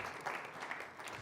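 Soft, distant applause from a church congregation, a brief patter of clapping at low volume.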